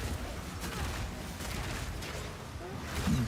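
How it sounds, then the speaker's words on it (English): Explosions fill the screen in Path of Exile 2, a dense rolling rumble of overlapping booms heard close and loud, with a voice talking underneath. "The thrill of the explosion of everything on the screen all at once."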